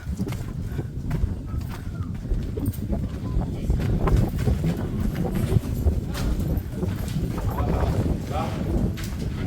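Strong gusting wind roars and buffets across the microphone at the sixth gate of hilltop Senji Fort, steady and loud throughout, with faint voices underneath.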